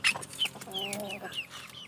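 A hen and a rooster cluck close by in a few quick, chattering bursts, fairly soft and with no talking.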